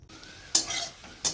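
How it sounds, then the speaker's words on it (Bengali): Pabda fish frying in hot oil, a brief soft sizzle with two sharp spatula or utensil scrapes against the pan, close and short. "তুলতুলের জন্য যে দুটো পাবদা মাছ রেখেছি সে দুটো আগে ভেজে নেব"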